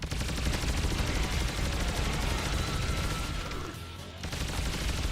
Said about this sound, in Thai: ปืนโคตรรัว